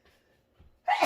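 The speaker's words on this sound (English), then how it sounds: "sneeze as I said I was going to do" A single sharp sneeze bursts out after quiet breathing, close and loud, while someone cooks crockpot chicken and noodles with pepper added.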